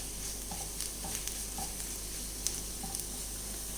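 Pepper powder and spices stirred in a frying pan for egg masala curry, with a steady sizzle and a few soft, scattered scrapes and taps of the spoon, close up and with no voices.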